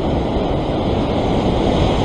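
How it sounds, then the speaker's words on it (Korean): Ocean waves washing in at a seaside fishing spot make a steady, loud rush of surf and wind-blown noise that stays constant for the whole stretch, with no voices. "아, 또 이 파도."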